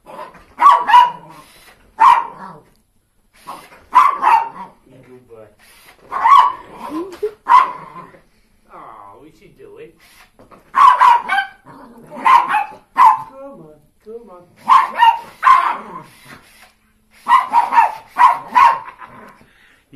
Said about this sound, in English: You weren't barking before